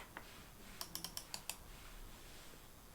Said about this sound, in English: You can hear the buttons click, and it's a firm sound